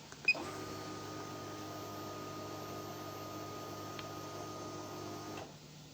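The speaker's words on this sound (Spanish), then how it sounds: "Bomba de combustible, ahí apagado y la va a activar por 5 segundos." Fuel pump on a Kawasaki ZX10R motorcycle primes with a faint steady electric whine and hum, starting with a small click and running evenly for about five seconds before cutting off, quiet and close.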